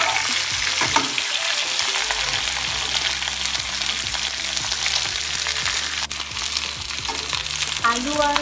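Potatoes and eggplant fry lightly in a pan, a dense continuous sizzle with rhythmic scraping of a spatula stirring through the pieces, close and steady throughout.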